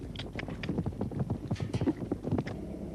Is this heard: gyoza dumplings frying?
no